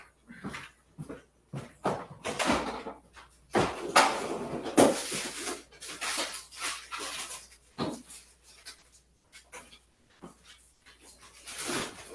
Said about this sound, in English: You hear my dog back here,